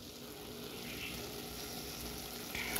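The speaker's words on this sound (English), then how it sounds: "I'm going to cover this and let it simmer." Chicken taco filling with dried onion sizzles softly in a pan, a faint steady crackle with no voices.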